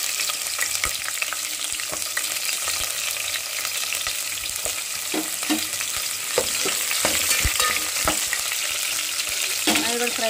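Onions sizzle and fry in hot tempering oil with mustard seeds in a home kitchen, a steady bright crackle with occasional stirring scrapes and spatula knocks, close and alone with no talking.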